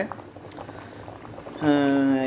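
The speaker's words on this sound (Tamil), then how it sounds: "நல்லா கொதித்து வெள்ளம் தண்ணி கொஞ்சம் வத்தணும்" Mutton curry boils in a pot with a soft bubbling texture, and a voice speaks in the background.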